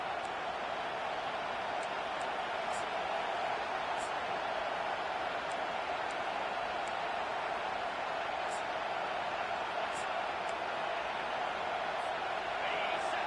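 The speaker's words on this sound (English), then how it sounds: "Decibels rising as the crowd gets behind this defense on 3rd down." Loud football stadium crowd roaring on third down, a dense sustained wall of cheering and noise with occasional sharp whistles or shouts above it, steady throughout.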